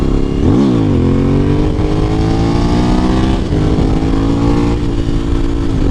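A Suzuki V-Strom 1000 motorcycle engine revs loudly and close, pitch climbing through gear changes with brief dips between rising pulls.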